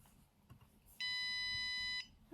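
A Raspberry Pi Pico driving a small speaker emits a single sharp, piercing electronic beep lasting about one second, loud against a faint hiss of room noise.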